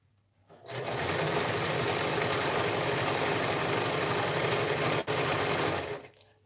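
Sewing machine stitching a homemade dressform cover, starting up and running in a steady fast mechanical whirr for about five seconds with a brief pause near the end before stopping, close and loud.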